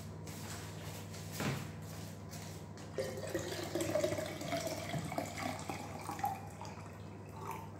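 Tap water runs and drips into a container being filled for homemade kefir, a soft continuous trickle with splashes that grows fuller partway through, close and alone without speech.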